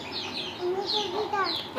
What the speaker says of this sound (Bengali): মুরগিগুলো এখানে ঢুকে নিচ্ছি